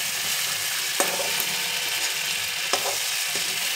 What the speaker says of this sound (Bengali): কড়াইতে লেগ পিসটা দিয়ে দেবো। এটা প্রথমে ভাজা হবে,